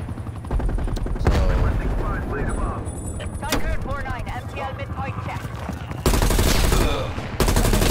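Bursts of XM4 assault rifle fire from a Call of Duty match ring out loud and close in the game mix, with heavier sustained volleys near the end while a player talks.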